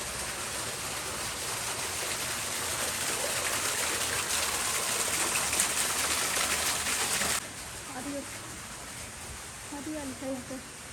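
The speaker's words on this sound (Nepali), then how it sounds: "पानीको आवाज सुन्नु न।" Water flows in Beartree Park in Sejong, Korea, a steady broad rushing that fills the first seven seconds, then drops sharply to a quieter background as a person talks.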